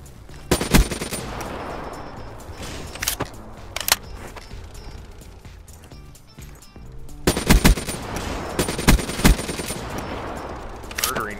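An ICR-1 assault rifle in Black Ops 3 fires in rapid automatic bursts, sharp loud cracks clustered in two main volleys with quieter game ambience and scattered shots between.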